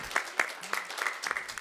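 Brief applause from an audience at an advertising industry panel, a short patter of scattered claps with a few louder individual hits, quickly fading.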